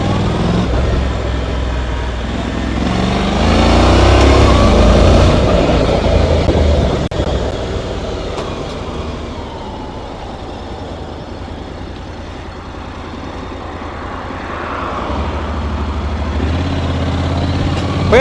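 A Honda NC750X DCT motorcycle is ridden and shifts gears smoothly, its engine a loud steady drone that swells, eases and rises again with wind rumble, heard close with no speech.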